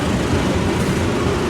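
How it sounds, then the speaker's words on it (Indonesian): Train rolling along rails in a simulator game on an Indonesian line, a steady, loud, continuous rumble of wheels and running gear with no voices. "menjalankan kereta api berantas ini dengan tujuan kita itu ke Sunda Kelapa"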